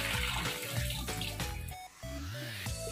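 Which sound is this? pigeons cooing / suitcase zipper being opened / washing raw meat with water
washing raw meat with water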